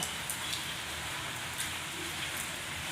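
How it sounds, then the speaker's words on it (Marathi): Heavy rain pours steadily in a dense, even hiss, a constant close wash of falling water with faint drip accents and no voices. "आज पाऊस जाम आहे"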